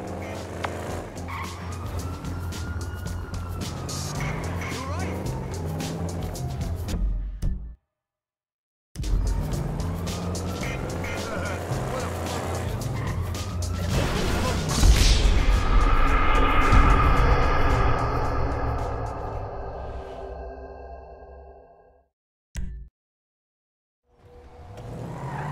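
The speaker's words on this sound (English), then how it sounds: "Our friend Poppy Mitchell has just been spotted in a high-speed chase with the cops!" A police car chase in the video game GTA V, with a car engine roaring, tires squealing and skidding and passing vehicle noise, loud and continuous with two brief breaks, under excited talk.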